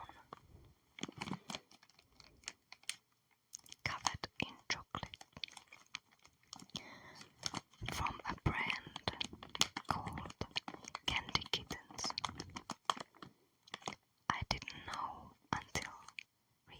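Close, crisp crunching and chewing of crunchy corn snack, with bursts of bites and quiet whispered voice in between.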